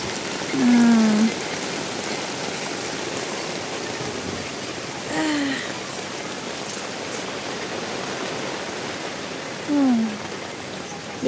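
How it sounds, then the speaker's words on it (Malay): Rain pours steadily at the Payat campsite in Batu Kurau, a loud continuous hiss on the tent and surroundings, with a few short high chirping calls standing out at intervals. "Hujan geng, hujan."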